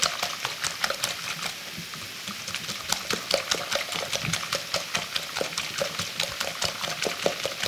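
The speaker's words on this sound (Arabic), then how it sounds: "نخلط كلشي مع بعض حتى ينسجموا لنا داك الفرماج مع البيض" Four eggs, six wedges of triangle processed cheese, salt, black pepper and parsley being mixed in a bowl, with a steady run of quick, close clicking and tapping strokes repeating throughout.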